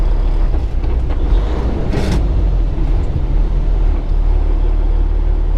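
An empty truck's engine rumbles loudly and steadily while the driver downshifts gears on a training drive. A deep, continuous drone is broken by a brief rise in revs around the shift.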